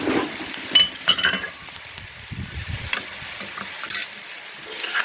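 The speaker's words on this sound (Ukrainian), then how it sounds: "Так, ще 2-3 хвилинки смажимо так." Garlic and peppercorns sizzle and fry in a pan while a utensil stirs them, with occasional clinks against the metal; steady crackle throughout, no talking.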